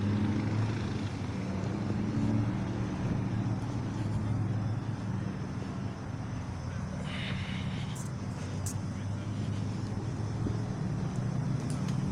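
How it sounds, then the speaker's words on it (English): A car rumbles on a city street at the scene of a truck crash. The low engine drone holds steady and fairly loud throughout, with faint voices mixed in. "After that car goes."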